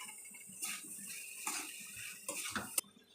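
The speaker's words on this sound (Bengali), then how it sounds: "এই মুহূর্তে দাঁড়িয়ে এবারে কুচি করে রাখা টমেটোগুলোকে আমি অ্যাড করে দেবো।" Chopped tomatoes tipped into a pan of pea and red lentil dal cooking on low flame, giving soft wet clatters and brief scrapes of metal on the pan, with one sharp clink near the end; no talking.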